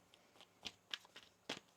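A deck of tarot cards is shuffled close by, giving several soft, quick riffles and flicks spread across a couple of seconds, quiet and with no talk.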